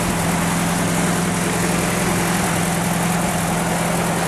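A 1952 Willys Overland four-wheel drive sits idling nearby, its engine a steady, even low rumble and hum that holds without change throughout, with no one talking.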